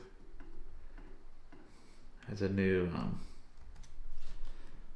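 Light clicking of fingers typing on a computer keyboard during a live coding session, soft and irregular, with a brief voice breaking in partway through.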